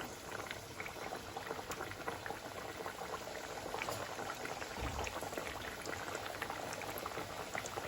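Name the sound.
bedmi puris frying in hot oil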